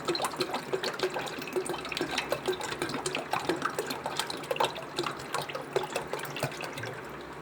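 Water, 1.5 litres, splashes and patters steadily into a saucepan, a continuous uneven liquid rush with small bubbling bursts throughout.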